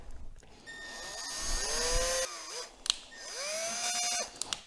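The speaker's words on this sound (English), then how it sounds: "I am just going to go through and run a tap through these holes." A thread tap run by power tool through bolt holes in an Onan engine block, two whirring drill bursts with rising then falling pitch, separated by a short pause and a few clicks, fairly close.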